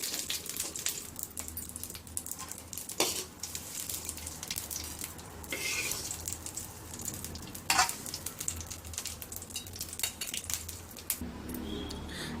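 Curry leaves fry in oil in a pan with a constant crackling sizzle, close and steady. Occasional stirring scrapes and light utensil knocks come through along the way.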